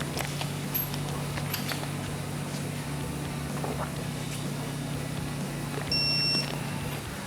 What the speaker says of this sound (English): Pull constantly until those lights go all the way up the row here, and then it'll beep at you